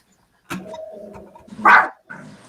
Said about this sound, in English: Now, see, Star, barks at Mario when she's in her kennel.